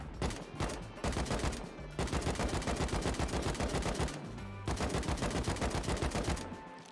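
Rapid bursts of video game gunfire, loud and close, in three long automatic strings of sharp repeated shots separated by brief pauses.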